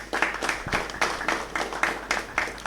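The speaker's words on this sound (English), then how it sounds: "A round of applause for them." Audience at a panel discussion on intellectual property clapping for the speakers; quiet, evenly spaced claps repeating in a steady rhythm throughout.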